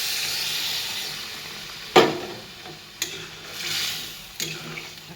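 Water hits fried spices in a hot pan while making ghugni gravy for spicy bhelpuri, setting off a sharp, loud burst of hissing sizzle that fades, followed by a couple of smaller spitting flare-ups over a steady frying hiss.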